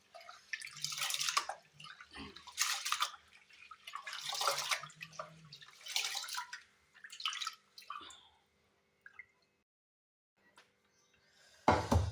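Rice is rinsed by hand in water in several bursts of swishing, dripping and splashing, with short pauses between and a louder splash at the end; no talking.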